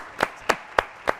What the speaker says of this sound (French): Applaudissements pour...